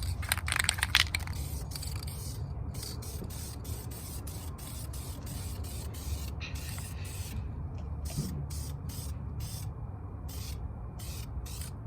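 Clear gloss coat being sprayed onto painted gloss black car rims after curb rash repair, a steady hissing aerosol spray running continuously and fairly close, with faint mechanical creaks underneath.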